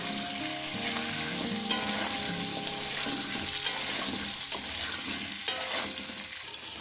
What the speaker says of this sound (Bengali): তো বন্ধুরা দেখেন আমি কিভাবে আলু পটলটাকে সুন্দর করে ভেজে নিচ্ছি